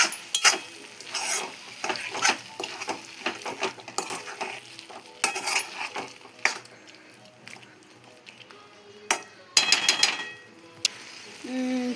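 Tamarind chutney frying in oil in a pan, with a spoon stirring and scraping against the metal in irregular bursts and a steady sizzle underneath, close and fairly loud with no voices.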